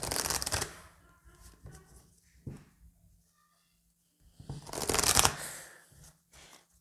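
Oracle cards are shuffled by hand in two brisk, close bursts of riffling and flicking, separated by quieter handling and a near-silent pause.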